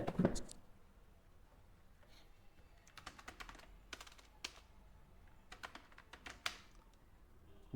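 Keystrokes on a computer keyboard come in short irregular bursts of light clicks, fairly near and quiet, with pauses between runs while a reply is typed.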